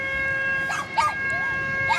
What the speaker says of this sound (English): Oh, we got dogs too now.